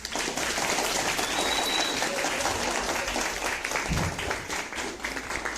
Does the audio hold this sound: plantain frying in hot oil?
no